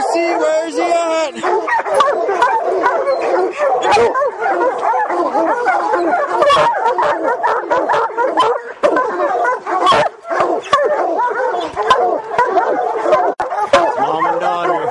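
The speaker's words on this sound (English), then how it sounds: "She's a bear dog." Several bear-hunting hounds bark, bay and whimper in a near, busy chorus with steady overlapping yelps, while people talk over the dogs.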